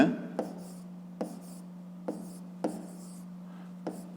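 A pen or pencil writes out a fifth-grade math solution on paper, making soft scratching strokes broken by about six distinct taps as it lifts and touches down, close and quiet over a steady low hum.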